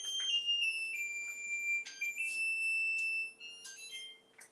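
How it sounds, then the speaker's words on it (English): A kitchen timer alarm rings in a home kitchen during cake baking, repeated bright electronic beeping tones in quick bursts, fairly clear and alone, fading slightly toward the end. "All right, let's turn off the timer."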